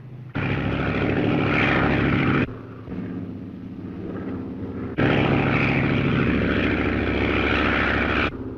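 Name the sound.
propeller bomber airplane flying overhead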